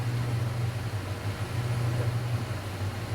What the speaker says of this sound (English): These machines are supposed to spin at 710.